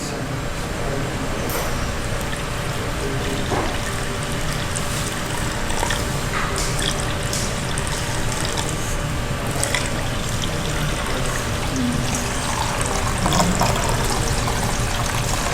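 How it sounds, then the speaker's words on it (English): Water is poured slowly from a vessel, a continuous trickling and splashing that runs steadily throughout with faint clinks and drips on top. "It's the moment of pouring the water."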